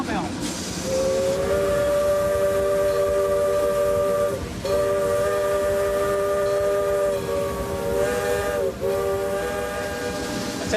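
A steam locomotive sounds its whistle in long, loud, sustained blasts with short breaks, amid a constant rushing hiss of steam and rumbling train noise.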